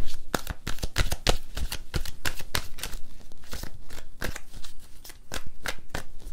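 Tarot love cards are shuffled by hand in a quick run of crisp, snapping riffles and slaps, close and fairly soft, with no talking.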